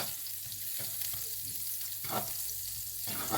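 Fried rice with pork stir-fries in butter in a wok, a steady sizzle broken by three rhythmic scraping tosses of a spatula, close and loud, no voices.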